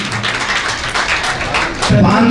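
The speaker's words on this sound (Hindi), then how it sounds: "उनका भी तालियों से अभिवादन करें" An audience at a community anniversary celebration applauds donors with scattered, moderately loud clapping, and a voice comes in near the end.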